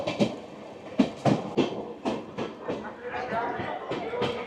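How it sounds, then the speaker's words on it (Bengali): The Sairang Kolkata Express inaugural special pulling into New Farakka Junction: rolling clatter of rail cars with rhythmic bursts, a voice talking over it. "ট্রেনটি পৌঁছাচ্ছে নিউ ফারাক্কা জংশন স্টেশনে"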